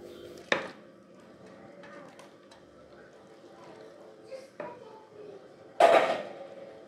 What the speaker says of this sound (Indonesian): Diaduk-aduk kembali sampai semuanya tercampur rata dan sedikit mengental